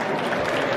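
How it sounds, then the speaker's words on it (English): Steady, dense applause from an audience at a barber expo awards night, loud and continuous throughout the short burst. "Give yourselves a round of applause because you guys look so awesome tonight"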